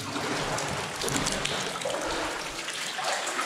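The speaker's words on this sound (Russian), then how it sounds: "Здесь с потолка капает вода очень активно." Cold water drips steadily from the ceiling of a flooded cave, a constant close splashing trickle with scattered drops landing in shallow water, no voices.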